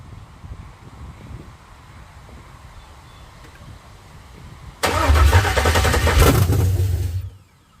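A 5.3 LS-swapped Chevrolet C10 fires up for the first time: quiet shop background, then the starter catches and the V8 roars to life loudly for about two and a half seconds before cutting out abruptly.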